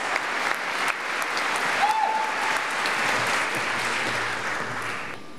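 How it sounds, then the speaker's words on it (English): Sustained applause from a large seated audience at a public talk event in Melbourne, steady and dense throughout, with a brief cheer or whistle rising above it midway. "Keep the applause going one last time"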